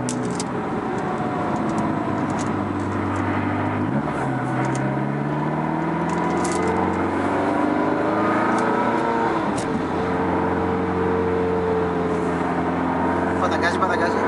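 A Ferrari 360 Modena's engine drones steadily from inside the car while driving, with rising and falling pitch as it revs and shifts, loud and continuous throughout, with people talking over it.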